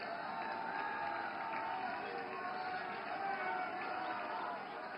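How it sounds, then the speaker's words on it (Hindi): A large crowd of supporters at a party headquarters gathering applauds and cheers for the Prime Minister, a dense, steady roar of clapping and voices that holds at an even level throughout. "जोरदार तालियों से खड़े होकर स्वागत कीजिए माननीय प्रधानमंत्री जी का"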